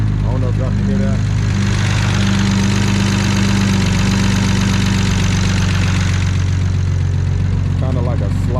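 A BMW 335i with an N54 engine, one that previously jumped timing, idles with a loud, steady, dense drone and a faint knock buried underneath, with brief voices at the start and end.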